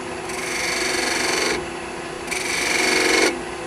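Two strokes of 220 grit sandpaper rubbing across wood, each a steady gritty rasp lasting over a second, separated by a short pause, close and clear.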